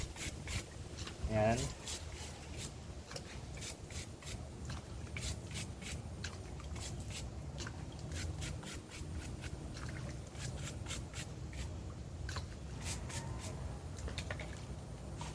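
A washing machine filter is scrubbed with a brush in water, giving a steady, close rubbing and scraping texture throughout, with a brief louder splash near the start and a few sharp clicks along the way.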